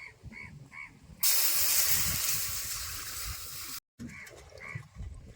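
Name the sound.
water poured into a hot wok for boiling eggs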